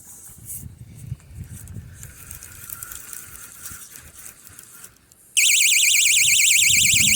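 Quiet rustling and handling noises give way to a sudden loud, continuous warbling electronic fishing bite alarm that keeps sounding steadily to the end.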